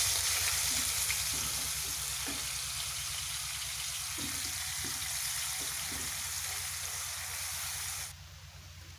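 Masala gravy for a chicken dish fries in a pan with a loud, steady sizzle that runs almost the whole time, then drops suddenly to a quieter level near the end.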